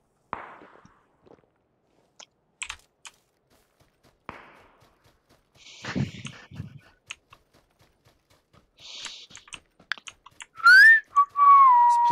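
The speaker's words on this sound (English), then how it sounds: "Please stop whistling. You're hurting my fucking ear holes." A person whistles near the end in a loud, sliding tone and then a couple of shorter notes, during a PUBG gaming session. Before that come scattered faint clicks and small desk noises.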